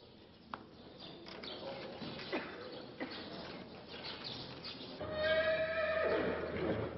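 An Akhal-Teke horse lets out a loud, prolonged whinny outdoors, with hoof clops, bird chirps and general ambient noise around it.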